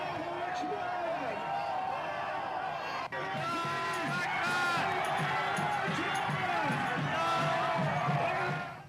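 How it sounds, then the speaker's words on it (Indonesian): A crowd of Iranians cheering in the streets of Tehran as missiles pass overhead toward Israel: a dense, continuous roar of many voices with whoops and shouts rising and falling, heard at close range throughout. "terdengar sorak-sorai warga Iran saat melihat rudal yang melintas menuju Israel"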